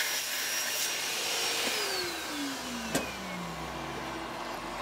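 A 2.25-inch annular cutter drills through cast iron with a continuous motor whine and grinding hum whose pitch slowly drifts downward, with one sharp click partway through.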